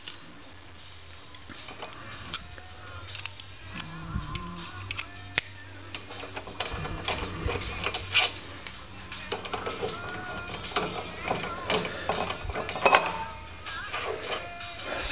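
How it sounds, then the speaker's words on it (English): Wrench loosening the front brake caliper bolts on a Kawasaki Vulcan 900, heard as scattered close metallic clicks and ratchet ticks over quiet workshop background. "So, re-loosen the caliper bolts."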